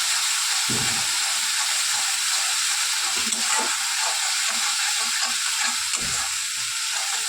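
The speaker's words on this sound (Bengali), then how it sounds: "খুব ভালো করে নেড়ে নেব। আদা, পেঁয়াজ আর লঙ্কার পেস্ট।" Ginger, onion and chili paste fries in hot oil with a loud, constant sizzle and hiss, while a spoon stirs and scrapes the pan in soft, irregular strokes underneath.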